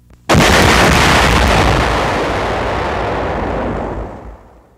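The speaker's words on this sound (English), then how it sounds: "A magazine explodes." An ammunition magazine explodes aboard the sinking battleship HMS Barham: a single massive, sudden blast that swells into a sustained roar and slowly fades over several seconds.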